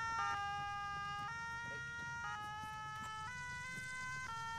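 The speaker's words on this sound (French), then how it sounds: "Ah, c'était les pompiers." A fire brigade siren at an outdoor car rally alternates between two tones in a steady hi-lo pattern, each note lasting about a second, sounding moderately distant and continuing alone for the whole stretch.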